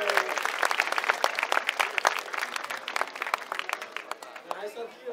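A small group applauding a DJ, lively uneven clapping with loud close claps, plus cheers and voices talking over it, tapering slightly toward the end.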